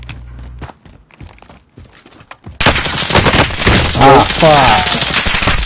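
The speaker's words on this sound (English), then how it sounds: "two guys were shooting at me" Heavy automatic gunfire in a PS4 shooter, loud dense bursts after a quieter opening of sparse shots, with a man's brief exclamation amid the crossfire.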